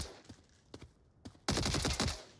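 Gunfire in the VR shooter Onward, a few scattered single shots followed by a sudden dense burst of rapid automatic fire, close and loud.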